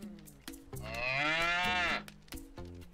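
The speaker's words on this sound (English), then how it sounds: "Well, I'll be. Bororo cattle." Bororo cattle in the video game Sand Land let out a long, loud, close moo lasting about a second, with game music or ambience playing around it.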